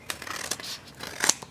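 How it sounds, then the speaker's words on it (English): Scissors snipping paper while trimming a small piece from the edge of a printable mini album page, a few quick close cuts with crisp light clicks and no talking. "So I'm just going to take my scissors"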